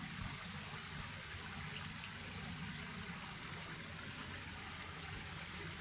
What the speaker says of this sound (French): le ruisseau qui séparait nos terrains d'avec Raymond et Jean coule encore